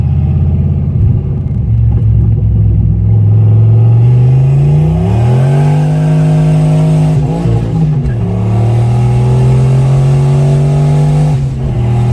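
A turbocharged GT40-engined Foxbody Mustang junkyard street car accelerates hard from about 2,000 RPM. A loud, close engine roar climbs in pitch, dips briefly at a shift, then keeps pulling steadily with no talking.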